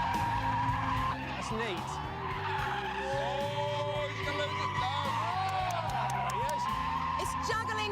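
A BMW F32 435i skids and drifts, its tyres squealing in rising and falling howls over a steady engine drone while people talk in the car.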